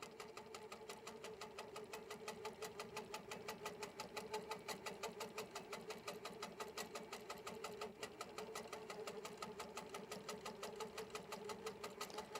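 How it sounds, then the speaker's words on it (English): An HQ Pro-Stitcher computerized quilting machine sews tie-off stitches in a quiet, steady rapid needle rhythm that continues evenly without pause. "Just doing my tie-offs, and then it will stitch right over that."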